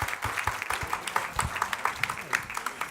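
An audience at a storytelling talk claps in a brief round of applause, with individual sharp claps standing out against a busy crowd, a few voices mixed in.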